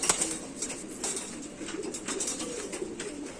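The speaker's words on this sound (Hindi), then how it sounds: "ये रंगीन कबूतरी है, तो कई परों में लगेगी" A colored female pigeon coos in low, murmuring pulses throughout, fairly close and moderately loud over a hissy background, with no one talking.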